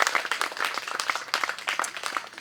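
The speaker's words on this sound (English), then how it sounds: "I think we should clap for our young people" Audience applause at an October 7 remembrance service, honoring young people: a short burst of scattered hand claps, moderately close, uneven and fairly thin, with no talk over it.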